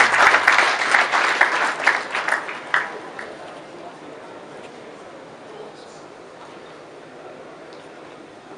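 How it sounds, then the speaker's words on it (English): Applause for the chairpersons at a Lagos event, loud and dense for about three seconds before fading to a low murmur of crowd noise. "Let's just give all of them a round of applause."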